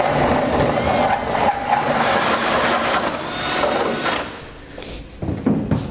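A hole saw cuts a 4-inch hole through the bed of a 2015 GMC Sierra pickup for a gooseneck hitch. It makes a loud, steady grinding rasp that stops near the end, leaving a few clunks and no speech.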